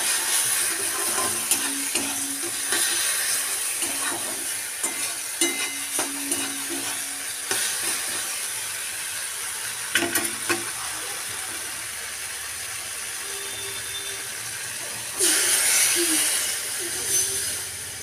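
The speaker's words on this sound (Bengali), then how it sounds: "এখন আমি পুরোপুরি জল দিয়ে দেব।" Water poured into a pan of fried spice masala for a fish curry, setting off a loud hiss and sizzle with stirring scrapes, bursts of bubbling recurring over about eighteen seconds.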